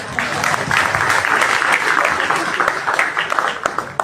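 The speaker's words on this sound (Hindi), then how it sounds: "जोरदार तालियां" Loud, dense applause from an audience at a Vestige gathering in Switzerland, with a faint murmur of voices underneath, sustained for about four seconds before tapering off.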